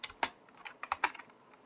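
Sparse keystrokes on a computer keyboard entering a game command, a few sharp clicks spaced irregularly, close and quiet without speech.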